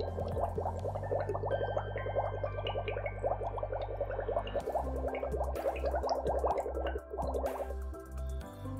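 Someone blows through a straw into a sample of Ice Mountain spring water during a pH test, a steady close bubbling gurgle with a low tone underneath, shifting partway through.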